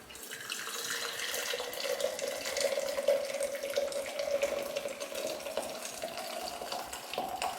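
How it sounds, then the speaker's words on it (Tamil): Pathimugam herbal water being poured through a strainer into a jug, a steady continuous trickle and splash that holds at an even level throughout, close up with no voices. "இதை இந்த மாதிரி ஜக்கில் வடிகட்டி எடுத்துக்கலாம்"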